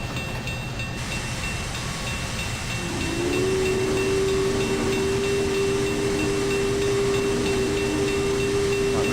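A Big Boy steam locomotive rumbles and hisses steadily while shunting on Sherman Hill, and a sustained whistle-like tone rises partway through and holds.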